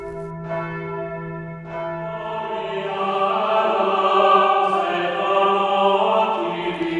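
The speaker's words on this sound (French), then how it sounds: "de sa musique de carillon, pour ceux qui entendent l'appel, l'invitation à la prière" A carillon of church bells rings out in a rich, sustained peal of overlapping tones, swelling louder midway and ringing on without any voices.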